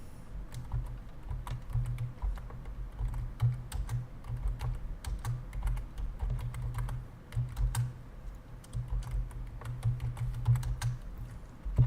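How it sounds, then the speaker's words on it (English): Steady computer keyboard typing runs throughout, a busy rhythm of close, soft key clicks with no talking over it. "I won't be talking, I'll be typing."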